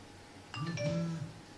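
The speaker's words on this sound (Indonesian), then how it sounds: "Masuk SMS baru." New SMS notification tone on an Apple iPhone 3GS, a single short bright two-note chime, clear and fairly faint, heard alone.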